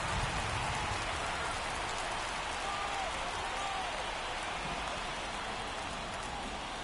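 Steady, dense rain pours over a ballpark in MLB The Show 24, a constant broadband hiss filling the whole stretch without a break.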